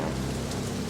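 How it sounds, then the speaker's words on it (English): A heavy rain downpour at an air show hisses steadily and densely with no breaks, loud and close, with a low rumble underneath. "the downpour starts"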